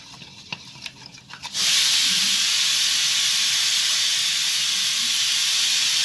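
Yogurt, milk, sugar and oil are mixed for paratha dough, starting with a few soft clicks before a loud, steady whirring hiss cuts in and runs evenly to the end.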